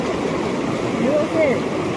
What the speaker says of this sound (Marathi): सो हा बघा हा इथे फ्लो आहे पाण्याचा